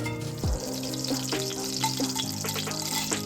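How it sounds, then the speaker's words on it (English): Olive oil and butter sizzling in a pan at the start of a chicken noodle soup, a steady close frying hiss with a brief thump near the beginning and light crackles throughout. "Get them sizzled."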